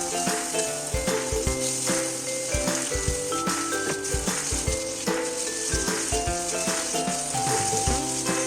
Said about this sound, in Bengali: মাঝারি আঁচে ভাজতে থাকুন